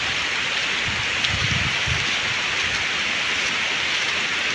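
Rain falls steadily outdoors during a storm, a constant broadband hiss of drops with no voices.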